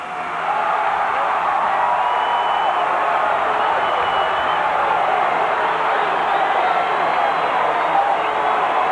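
A huge outdoor crowd cheers and roars steadily at the Chicago Bulls' first championship celebration in Grant Park, a dense, continuous wall of voices and whoops that stays loud throughout.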